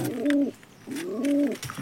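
Fantail pigeons cooing close by, two distinct rolling coos with a pause between them, clear against a quiet background.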